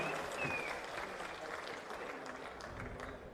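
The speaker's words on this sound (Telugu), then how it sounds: "గట్టిగా చప్పట్లు కొట్టి అభినందించండి." Audience at a public political gathering addressed by a chief minister applauds, a steady wash of clapping that stays fairly faint and even for the whole few seconds, with no voices over it.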